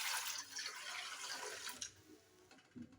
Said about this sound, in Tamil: 2 சொம்பு தண்ணி ஊற்றணும்.